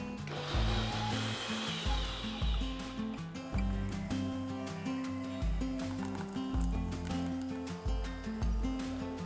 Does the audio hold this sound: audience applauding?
no